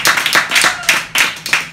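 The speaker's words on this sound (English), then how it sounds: "More clapping." Audience at an improvisational performance clapping for a performer named Willpower, a close, loud burst of irregular handclaps with sharp separate slaps rising and falling across the whole span.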